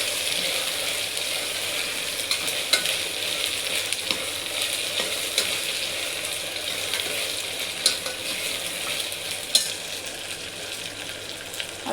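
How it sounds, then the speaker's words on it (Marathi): Tomatoes for black vatana pulav sauté in a pan with a steady sizzle, while a spoon stirs with repeated scraping and occasional sharper clicks against the metal throughout. "टोमॅटो टाकून तो पण परतून घ्यायचा।"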